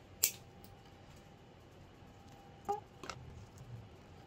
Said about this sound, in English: I'm going to take these springs off by just using a pair of wire cutters and just cutting the loops on the springs